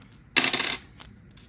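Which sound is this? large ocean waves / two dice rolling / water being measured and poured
two dice rolling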